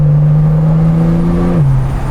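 A 1069 hp FPM-tuned Porsche Turbo S accelerates hard, its loud, close engine holding a strong steady drone before the pitch drops slightly as it shifts, with no talk over it.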